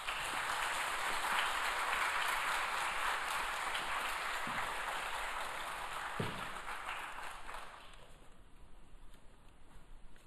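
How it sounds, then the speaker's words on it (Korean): Church congregation clapping to welcome a missionary at a Wednesday prayer service, a steady dense applause that carries on for several seconds and then thins out near the end. "우리 선교사님 나오실 때에 큰 박수로 맞이하겠습니다."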